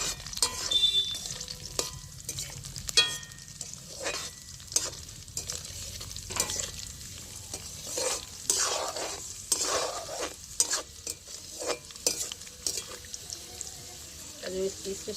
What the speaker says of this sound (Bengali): কাজু আর কিশমিশটা আগে আমি ভেজে নিচ্ছি।